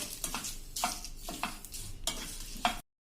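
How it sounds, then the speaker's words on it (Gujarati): Chillies roasting over a slow-to-medium flame in a pan, with repeated stirring scrapes and light sizzling in a loose rhythm of about four strokes, close and moderately loud, with no voices. "તો એને પણ આપણે સ્લો ટુ મીડિયમ ફ્લેમ ઉપર અડધી મિનિટ જેવા શેકી લેશું આ રીતે"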